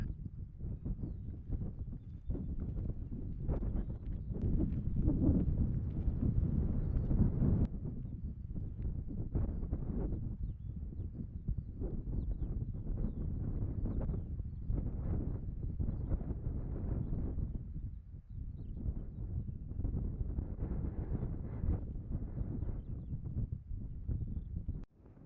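Breezy wind buffets a microphone on an open hillside walk near a summit, a continuous low rumbling roar rising and falling in gusts throughout.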